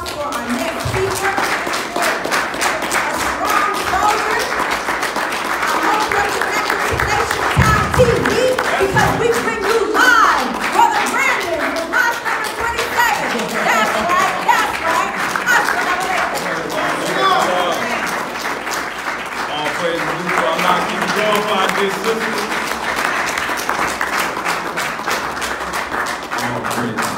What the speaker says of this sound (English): give us a round of applause for our next speaker